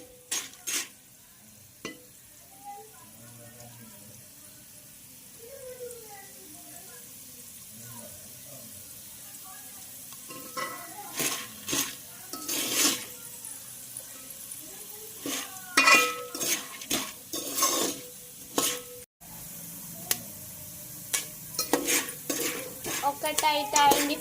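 Home-made popcorn pops in a covered pan, a quiet stretch giving way to sharp irregular pops that grow denser toward the end, with a voice speaking over part of it.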